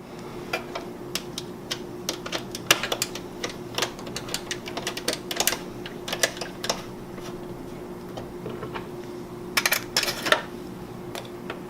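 A Torx bit drives long screws back into an Xbox One console during an optical drive repair. It gives off a series of sharp, close clicks and ticks in irregular bursts, with no talking.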